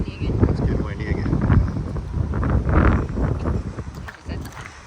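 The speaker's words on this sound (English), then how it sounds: "It's getting windy again." Gusty wind buffets the microphone outdoors beside a river at an Alabama campsite, a loud, irregular low rumble that rises and falls, with people talking over it.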